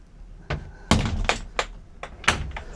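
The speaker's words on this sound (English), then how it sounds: "when this door is opened" A boat cabin door being opened, heard as a series of dull thunks and knocking bumps, about half a dozen uneven hits close by with quiet gaps between them.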